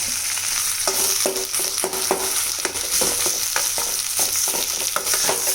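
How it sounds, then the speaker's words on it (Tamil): A ladle mashes potato masala in a hot pan, with a steady sizzle under repeated, evenly spaced knocks and scrapes of metal against the pan. Close and moderately loud, with no talking. "இப்படி நல்லா கரண்டியாலே கொத்தி விட்டிங்கன்னா"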